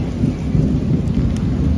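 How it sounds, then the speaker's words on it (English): Rain falling during Tropical Storm Fred near a beach, a steady broadband wash with a heavy low rumble, loud and continuous with no voices. "we have just a little bit of rain."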